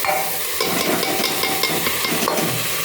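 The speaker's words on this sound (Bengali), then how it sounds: "ওদেরকে একটু নেড়ে চড়ে নিয়ে" Dalia and green chillies sizzle steadily in a frying pan as a spoon stirs them, with soft repeated scraping close by.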